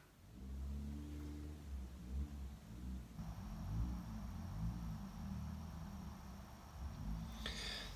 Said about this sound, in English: Noisy cars outside.